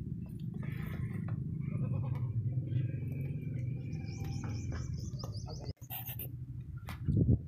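A Makhi Cheeni desi dairy goat bleats faintly a few times against a steady low rumble of farmyard noise, with a sharper burst near the end.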